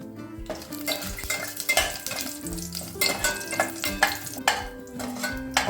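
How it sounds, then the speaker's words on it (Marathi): Whole spices (cinnamon pieces, cardamom, cloves, black pepper and bay leaf) fry in hot ghee for vegetable pulao, with a steady close sizzle and repeated scraping of a spoon stirring against the pan. "त्याच तुपात दालचिनीचे तुकडे, वेलची, लवंग, काळी मिरी आणि तेजपान घालूया."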